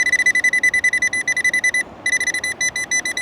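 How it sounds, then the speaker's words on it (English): A Nokta Legend metal detector fitted with an LG30 coil gives a loud, rapid pulsing electronic beep on a beach as it passes over a target in a rock crevice, with a brief pause before the tone resumes. "got a 36 signal coming up, just in this little crevice"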